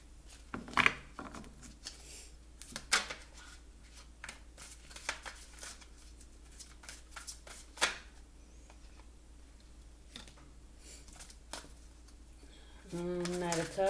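Intermittent papery shuffling and riffling of tarot cards, close and soft, in short bursts with quiet gaps, with a voice briefly at the end.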